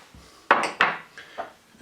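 Ingredients for a creamy ranch dressing, mayonnaise, heavy cream and lemon juice, land in a large mixing bowl in three quick clinks and knocks, close and clear against a quiet room.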